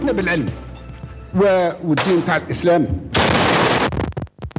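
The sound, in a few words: grenade explosion followed by machine gun fire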